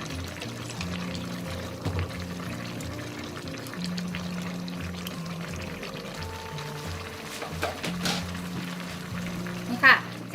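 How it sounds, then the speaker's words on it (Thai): White soy sauce poured into a simmering mixed vegetable soup, a soft, steady liquid trickle with brief splashes, faint beneath sustained tonal background music. "ให้ใส่เป็นซีอิ๊วขาวค่ะ"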